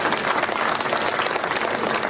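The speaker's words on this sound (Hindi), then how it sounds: "उनके लिए जोरदार तालियों से गड़गड़ाहट से स्वागत चाहते हैं" Rally crowd at a Haryana election gathering applauds to welcome Akash Anand, a dense continuous wash of many clapping hands, loud and close, with no break.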